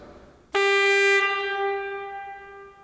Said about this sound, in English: I took one of the trumpet pipes as well out of the organ.